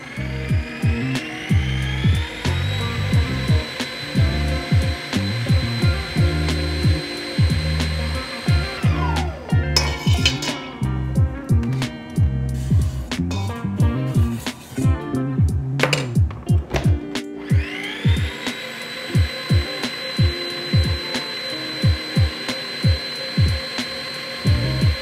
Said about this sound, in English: we're going to beat this mixture together first with the stand mixer and the whisk attachment